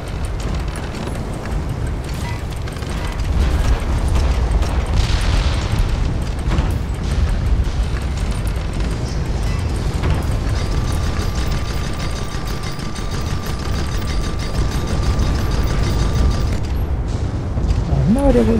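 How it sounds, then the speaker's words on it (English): Cannon fire from an enemy cruiser pounds a player's airship in the video game Guns of Icarus Alliance, with repeated heavy booms and bursts over a steady, loud mechanical drone, and a voice talks throughout. "Must have been the cruiser firing."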